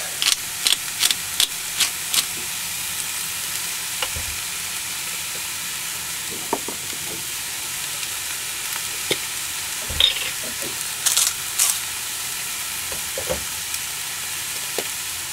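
Food frying steadily in a pan in a boat's galley for eggs rancheros, a continuous soft sizzle broken by scattered light clicks and taps of utensils, close and fairly quiet with no talking.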